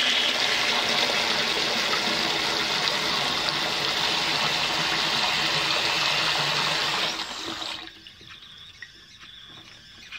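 Tap water gushes steadily over a waterproof Xpert WR-4401 servo held under the stream, a loud, continuous broadband rush that cuts off sharply near the end, leaving only faint dripping and the servo's quiet whir.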